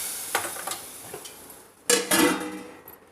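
Hot tempering with fried onion vadagam is poured into radish sambar, a few light clinks and stirs followed by a sudden loud hissing splash that fades over a second, close by.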